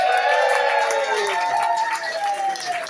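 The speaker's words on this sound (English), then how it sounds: "give him a massive round of applause" Crowd cheering and applause for a poet at a pub poetry night, a loud continuous roar with voices shouting over the clapping throughout.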